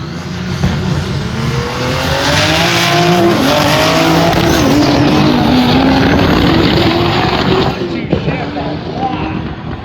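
Drag race cars, including a Supra alongside a GSE Mark V, roar toward the finish line at a TX2K event, loud sustained engine noise with rising tonal whine and broadband roar throughout, a commentator's voice running over it.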